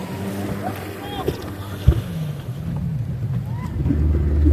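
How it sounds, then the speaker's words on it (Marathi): A boat engine starts at Ganpatipule beach, its low motor rumble swelling toward the end beneath wind buffeting and excited voices. "बोट चालू झाले"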